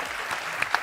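Studio audience applause on a Punjabi entertainment game show, a brief dense burst of clapping that fills the whole moment with no voices over it.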